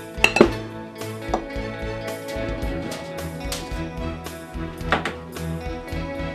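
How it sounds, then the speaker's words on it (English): A knife slicing through potatoes in a bowl, giving repeated scraping cuts and clinks against the bowl in an uneven rhythm, close and moderately loud with no talk. "just slice through your potatoes this way"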